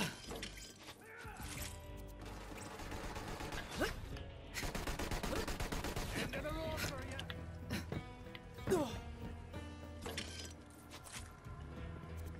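A Jakobs shotgun firing in Borderlands 3, sharp loud blasts spaced irregularly amid shattering crashes and game clatter, with people talking over the action.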